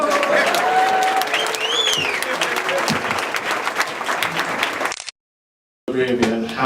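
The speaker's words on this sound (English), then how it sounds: "Give her a round of applause." Wedding guests applaud the bride in a loud, dense burst of clapping with crowd voices and a few whoops mixed in, lasting about five seconds before cutting off abruptly; speech resumes after a brief gap.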